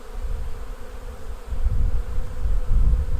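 Honeybees buzz steadily over a hive frame during a hive inspection, a close, continuous drone that swells louder in the second half.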